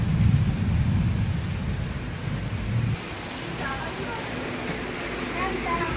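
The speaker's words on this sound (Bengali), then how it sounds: "বিশাল বৃষ্টি পড়ছে আজকের, বৃষ্টিটা মনে হচ্ছে না থামবে" Heavy rain pours in a dense, steady hiss, with a deep rumble under it for the first few seconds, and voices talking softly through the downpour.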